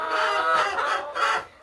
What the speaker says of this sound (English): There's a hen in the corner.